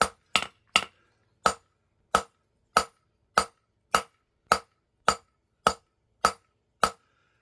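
Hammer blows on hot metal at the anvil while forging, a steady series of about fourteen sharp ringing strikes at an even pace, close and loud with silence between, no talking.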